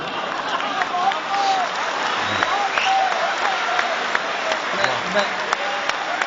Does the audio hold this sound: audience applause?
yes